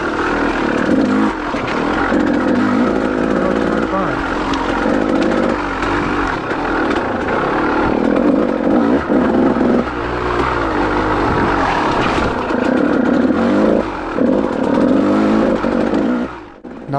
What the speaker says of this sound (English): I was really getting on the gas on this next little short shoot here and actually got into the second half of the throttle.